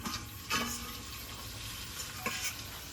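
Meat is stirred and fried in a pan for a curry, with soft close sizzling and a few sharp scraping stirs at intervals.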